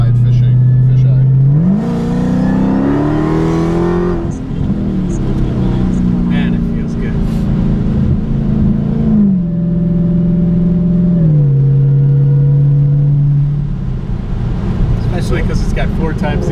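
A Dodge Hellcat's engine revs and pulls hard while driving, a loud, steady growl that climbs in pitch through a couple of gear-like rises before settling, heard from inside the car with people talking over it.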